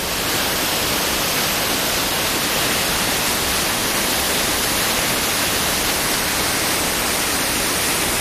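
A waterfall near Pradis, Italy, seen from the side, roars as a steady, dense broadband rush with no breaks, loud and close.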